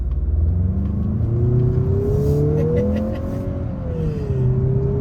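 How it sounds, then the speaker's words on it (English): A 2023 Mazda CX-50 with its naturally aspirated engine under hard acceleration through a left-hand turn, a steady loud engine drone rising smoothly in pitch, heard from inside the cabin with no talk. "Let's do hard acceleration"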